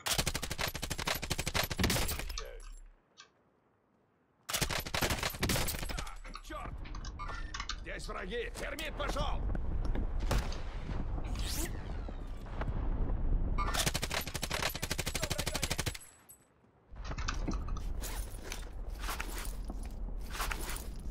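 Gunfire from a firefight in Call of Duty Warzone against cheaters, with dense bursts of rapid automatic shots broken by short quiet gaps, loud and close throughout.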